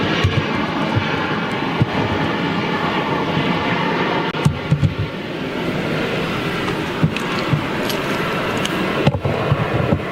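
A Delta triple-seven jet airliner roars on takeoff, a loud, broad engine rumble and whine sustained throughout, heard from nearby with faint wind buffeting.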